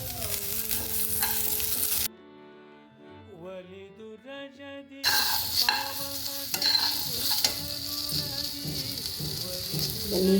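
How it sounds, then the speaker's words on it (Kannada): Cumin, pepper powder, black sesame and coriander fry and are stirred in a pan for an okra gojju masala, with a dense close crackle and scraping. A few seconds of music interrupt before the frying returns. "ಈಗ ಇದಕ್ಕೇ ಜೀರಿಗೆ, ಮೆಣಸು ಪೌಡ್ರು ಮತ್ತು ಕಪ್ಪು ಎಳ್ಳು ಮತ್ತು ಧನಿಯಾ ಹಾಕ್ಕೊಂಡು ಫ್ರೈ ಮಾಡ್ಕೊತಾ ಇದ್ದೀನಿ"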